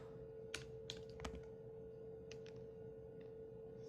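A handful of separate keystrokes on a computer keyboard, typed while coding in the CoppeliaSim robotics simulator, click sparsely over a steady electrical hum with no talking.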